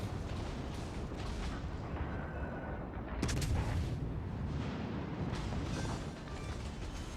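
Secondary guns on a warship in a naval video game fire in a steady, dense rumble of blasts, with one sharper report near the middle, and no voices.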